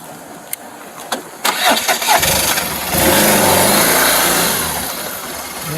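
A motorcycle engine starting, a few clicks and sputters before it catches and settles into a steady, loud running drone.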